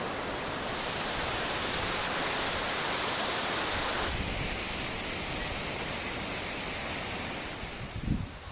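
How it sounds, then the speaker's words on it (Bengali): Rainbow Falls at Sonada in the Darjeeling hills roars as a loud, steady broadband rush of falling water. It sounds close and continuous, with no voices over it. "আমি চলে এসেছি সোনাদার সেই বিখ্যাত পর্যটনের জায়গায় যেটি হলো এই রেইনবো ওয়াটারফলস বা ইন্দ্রেই ওয়াটারফলসের সামনে"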